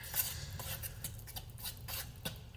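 Banana bread batter with butter being stirred vigorously in a bowl, a busy run of soft scraping and knocking of utensil against the bowl, close and fairly quiet.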